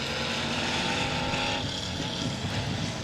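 A dirt-track race car at 67 Speedway of Texarkana powers off turn two down the back straightaway, a steady loud engine drone that dips slightly as it pulls along.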